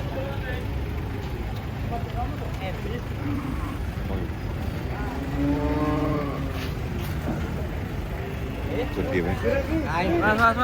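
Cattle, including a huge bull, low and moo repeatedly while coming down from a truck, drawn-out calls rising over a rumbling, noisy background with people talking nearby.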